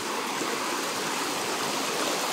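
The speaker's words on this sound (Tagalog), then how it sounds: "Lakas na ng ulan, tsaka ang lakas na ng ragasan ng tubig." Heavy rain and rushing water roar on a rocky mountainside, a loud, dense, unbroken hiss of torrent and downpour filling the whole moment with no other sounds.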